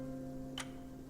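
Single soft clock tick in Love & Deepspace, one faint click in a quiet, dimly lit room over a low steady hum.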